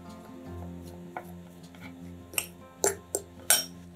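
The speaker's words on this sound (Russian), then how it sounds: "Подготовленные желтки разминаем вилкой." Boiled egg yolks mashed with a fork in a bowl, quiet scraping followed by several sharp clinks of metal on dish growing louder toward the end, close and without talk.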